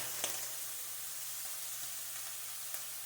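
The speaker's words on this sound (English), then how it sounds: "then you want to fry the flour into it" Flour frying in sausage grease for gravy crackles with a steady soft sizzle in the pan, plus a few faint clicks from stirring.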